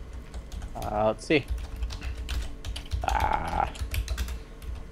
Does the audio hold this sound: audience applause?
no